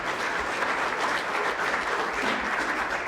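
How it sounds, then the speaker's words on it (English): An audience at a journalism forum gives a round of applause, steady and continuous clapping from a crowd, moderately loud with no pause. "give them a round of applause"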